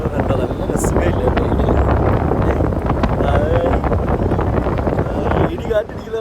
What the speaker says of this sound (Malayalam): ഇടി കാറ്റടിക്കുന്നുണ്ടോടാ, ഇടിയുടെ മുടി പറക്കുന്നുണ്ടോ?